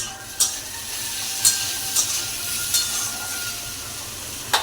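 Food frying in besan batter in a pan, a continuous close sizzle and hiss broken by several sharp clicks of stirring at irregular intervals.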